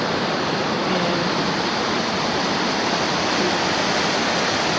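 A waterfall at Sherando Lake in the Blue Ridge Mountains pours in a loud, steady, broadband rush, heard close and alone with no voices.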